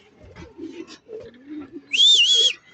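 A racing pigeon returns to its loft during a 247 km derby in Camarines Sur, Philippines, with soft low coos followed by a short, bright whistle-like note.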